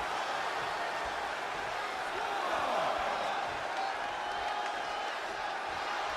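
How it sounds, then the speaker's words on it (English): An arena crowd in the WWE 2K20 wrestling game: a steady, distant roar of cheering and murmur holds evenly throughout at a low level, without distinct voices standing out. "When you listen to this crowd, they're absolutely electric."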